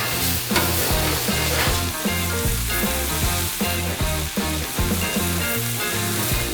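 Stir-fry cooks on a Blackstone griddle with a loud, steady sizzle that runs unbroken throughout, under a bed of background music and with no talking.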